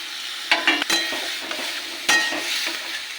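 Boiled soybeans are tipped into a pan with ginger, tomato and green chilli, giving a soft sizzle broken by several sharp clinks and scrapes of a spoon against the pan.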